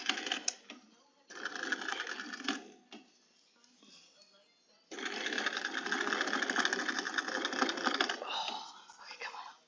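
Domestic sewing machine stitching fabric with boned sections in bursts: a rapid whirring run, a pause with quiet handling, then a longer sustained run, close and fairly loud.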